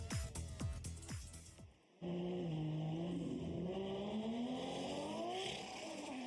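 A Formula Drift Japan car starts its qualifying run at Ebisu Circuit West Course in Fukushima. A brief burst of tire and engine noise gives way to a loud, sustained engine wail whose pitch climbs and holds.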